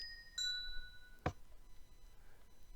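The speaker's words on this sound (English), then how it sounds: "for more of a chime type noise, you can use packed ice like this" A video game note block sitting on packed ice rings out as a doorbell chime, with two bright bell-like tones dying away. A sharp click and a faint later ping follow.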